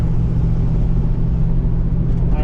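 A 1983 Mercury Capri RS, started after sitting nine years, rumbles steadily up close with a deep, continuous low engine drone that holds even throughout.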